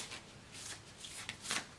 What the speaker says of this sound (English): I can shuffle them.